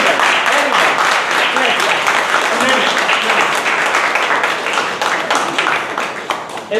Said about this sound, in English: Can we clap once again?